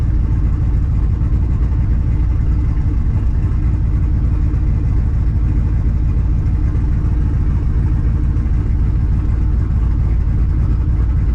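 A turbocharged LS engine idles with both cooling fans running, a loud, steady low rumble mixed with a constant fan whoosh that holds without change throughout.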